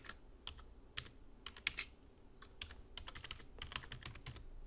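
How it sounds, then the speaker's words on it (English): Quiet, irregular bursts of keystrokes on a computer keyboard, clicking in short runs and single taps, close but faint, with no talking. "we can simply go into the box, and we can type"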